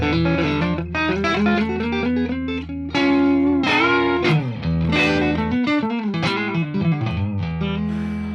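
Electric guitar played through a Fractal Axe-FX III on firmware 29.00, with room reverb, rings out in sustained distorted chords and phrases, loud and steady, with brief breaks, and no talking.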